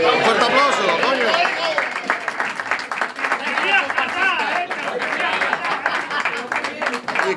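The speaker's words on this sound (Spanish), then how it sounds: "¡Un fuerte aplauso, coño!" Loud crowd applause and cheering at an outdoor romería, a pilgrimage festival for the Virgen de Guadalupe, with dense clapping mixed with voices and chatter throughout.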